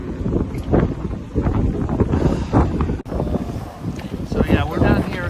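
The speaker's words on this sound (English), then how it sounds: "it's extremely windy" Strong wind buffets the microphone in loud, gusty rumbles at Battery Park, New York City, while a person talks over it, with an open outdoor roar throughout.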